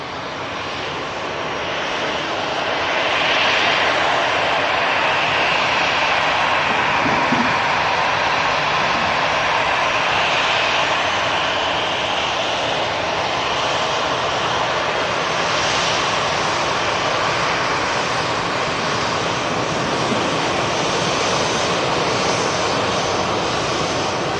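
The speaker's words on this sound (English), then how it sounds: "This Lufthansa arriving from Frankfurt." A Lufthansa airliner from Frankfurt arrives at Manchester Airport, its jet roar swelling over the first few seconds and then holding loud and steady throughout, with no one speaking.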